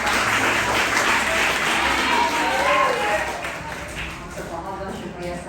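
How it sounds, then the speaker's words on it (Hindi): An audience claps for schoolchildren at a school session, a dense burst of applause that is loud at first and fades over the last couple of seconds. "बच्चों, आप लोगों के लिए भी बहुत तालियां"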